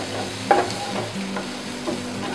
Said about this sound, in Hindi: अब हम इसमें हाफ कप बारीक कटी हुई शिमला मिर्च ऐड करेंगे। इसको भी हम एक से दो मिनट तक भून लेंगे।